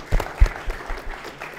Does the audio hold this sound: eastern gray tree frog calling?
no